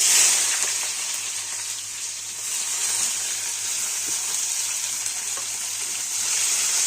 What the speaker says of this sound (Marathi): आता कांदा भाजून घ्यायचा आहे.